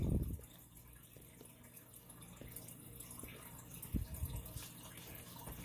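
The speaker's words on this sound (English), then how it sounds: "So that's why you hear water running." Water runs steadily from a tap in a kitchen, a faint, continuous hiss and patter with a few soft knocks and no talking.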